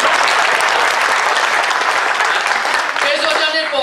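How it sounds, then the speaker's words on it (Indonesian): Dense audience applause fills a training hall at an HPAI 2015 kick-off seminar, steady and loud throughout, with a voice briefly audible near the end. "tepuk tangan dulu Bapak Ibu"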